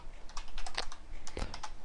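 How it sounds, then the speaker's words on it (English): Keystrokes on a computer keyboard clatter in quick, irregular bursts of close, crisp clicks, with no voices, while HTML table code is being entered. "I'm just going to start typing"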